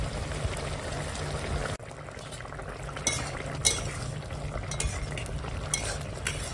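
Fried fish goes into a simmering vegetable curry, with a steady bubbling sizzle, a few soft clinks and stirring scrapes close by, and no talking.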